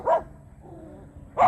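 Two sharp dog barks, one at the start and one near the end, separated by a quiet gap with faint low background noise.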